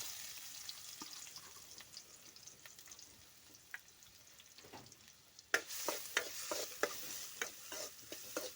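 Onions sizzle quietly in a kadai, a soft frying hiss that turns into sharper scraping and clinking strokes of stirring in the second half, close but faint, with no voices.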